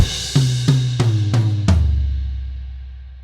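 Drum kit playing a short fill: five sharp hits roughly a third of a second apart, ending on a crash cymbal with a bass drum in unison that rings out and decays slowly. The close, loud kit plays alone with no voices.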